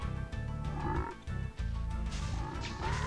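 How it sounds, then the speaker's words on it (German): Frogs croaking in the video game Spyro the Dragon: a rapid run of low, rhythmic croaks repeats in quick bursts over game music, fairly quiet, with no speech. "Jetzt tue ich die Frösche."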